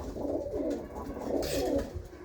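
Pigeons of an old Jhorda line coo softly and repeatedly in a loft, close by, with low rolling calls overlapping.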